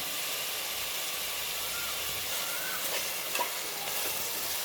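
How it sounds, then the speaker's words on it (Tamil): Ginger garlic paste and tomatoes sauté in a pan for a mutton paya, giving a steady close sizzle with faint stirring scrapes and no talk. "இப்போ இது வந்து நல்லா இஞ்சி பூண்டு வந்து வதக்கி வந்து வாசனை சேர்த்துக்கலாம்"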